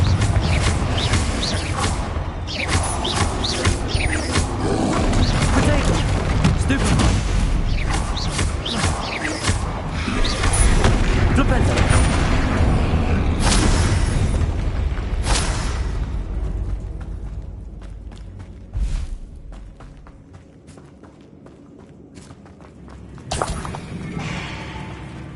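Spell blasts in the Hogwarts Legacy video game, with dense, loud magical impacts, booms and crashing effects rolling continuously for most of the stretch before thinning into scattered bursts near the end.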